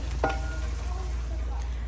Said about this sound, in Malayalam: തിളച്ചു തുടങ്ങി